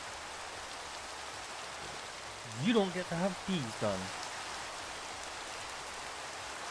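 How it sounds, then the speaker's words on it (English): Rain falls in a Minecraft modpack game as a soft, steady hiss throughout, with someone briefly speaking over it midway. "Why this fucking rain?"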